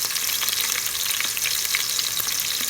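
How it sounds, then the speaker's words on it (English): Onion, garlic and ginger sauté in a hot pan for a chicken tinola soup, giving a steady, close, dense sizzle and crackle with no pauses and no voices. "We need to saute the onion, garlic, and the ginger"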